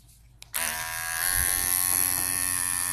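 Electric dog grooming clippers fitted with a snap-on comb, set to a 40 blade, switch on after a short silence and then run as a steady, close, loud buzzing hum with no talk.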